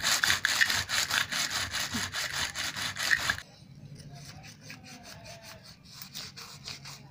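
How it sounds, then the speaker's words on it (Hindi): Sandpaper with a little sand scrubs an old machine in quick back-and-forth rasping strokes, loud and close at first, then dropping to quieter, sparser rubbing. "देखिए हमने इस पर रेत डाल लिया है थोड़ा सा, और अब रेगमाल से रगड़ रही हूँ इसे।"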